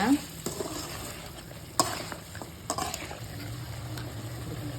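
Mutton pieces and tomato sautéing in a pan for village-style mutton curry, with a low steady sizzle and occasional sharp scrapes and stirring knocks from a spoon against the pan.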